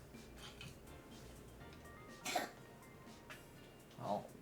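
Someone coughs in the background, two distinct rough bursts about two seconds apart, faint under a low hum with quiet talk.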